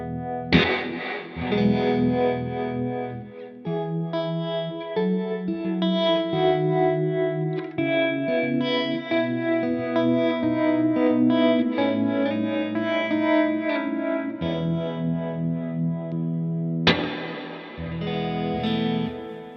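Electric guitar chords through a Strymon Flint V2 tremolo and reverb pedal ring out with a pulsing tremolo and a wash of reverb, sustained notes blending together, no voices.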